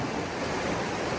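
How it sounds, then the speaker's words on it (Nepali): A small river flowing into the Saptakoshi near Chatara rushes in a steady, loud, dense wash of water, close by and without voices. "यो त सप्तकोशी मिसिने सानो खोला मात्र हो"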